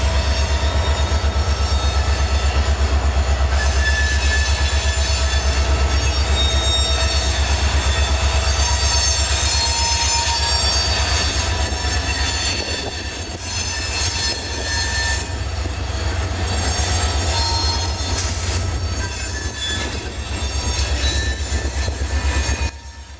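Local freight train A777 rolling past on a Florida railroad line: a loud, sustained rumble of rail cars with wheel squeal and clatter throughout, close by, with no voices.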